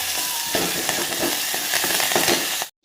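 Cumin, garlic-ginger paste and fresh curry leaves sizzle and spatter in hot oil, a steady close, loud frying hiss with crackling pops throughout that cuts off abruptly at the end.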